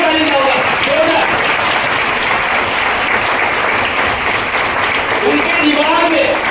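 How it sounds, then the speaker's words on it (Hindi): Thunderous, sustained applause from a large audience fills a Vestige leadership event hall, steady and dense throughout with a loud amplified voice over the clapping. "जोरदार ताली चाहूंगा, जोरदार ताली चाहूंगा, जोरदार।"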